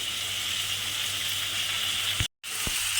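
Chopped Malabar spinach sizzles in a pan of frying spice paste, giving a steady close hissing with one brief dropout and a small clunk near the end, with no talking.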